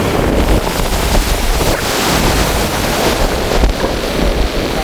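Strong storm wind roars and buffets the microphone on the coast at Keerimalai while sea waves churn and crash close by, a loud, continuous and unbroken rush with no voices.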